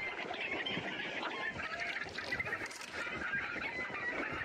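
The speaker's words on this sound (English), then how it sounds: "Can't tell with the chickens." Chickens in the video game Hunt: Showdown cluck and squawk continuously in a small flock nearby, a busy, restless chatter with no talking.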